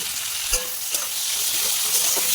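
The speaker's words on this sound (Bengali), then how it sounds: "পেঁয়াজগুলো এখন একটু লাল হতে দেবো" Sliced onions frying in a hot pan give off a dense, constant sizzle and hiss that holds steady throughout. A couple of faint knocks can be heard against it.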